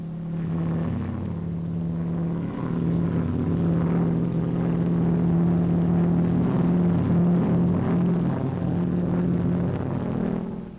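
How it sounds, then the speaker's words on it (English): A steady engine drone with a low, constant hum of an Auster Eaglet light propeller aircraft flying past at moderate distance, loud and sustained throughout. "The Auster Eaglet, the light aircraft par excellence."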